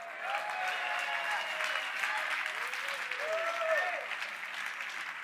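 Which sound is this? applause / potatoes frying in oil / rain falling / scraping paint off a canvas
applause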